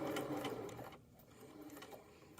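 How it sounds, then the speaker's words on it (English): Sewing machine running steadily while stitching down the facing of a hoodie pocket, a close continuous whirring hum that dips briefly midway and then resumes. "And I'll continue sewing down"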